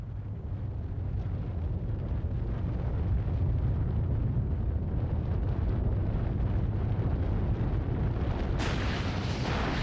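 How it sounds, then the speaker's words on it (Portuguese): An underground atomic bomb test with the charge detonated 180 meters below ground gives a continuous, heavy, low rumbling roar of unbroken noise, loud and steady throughout, with no voices. "Neste teste, a bomba foi detonada 180 metros abaixo do nível do solo."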